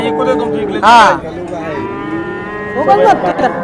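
A calf at the Sangola livestock market moos twice, a loud drawn-out call near the start and a second, softer one near the end, set against steady market murmur.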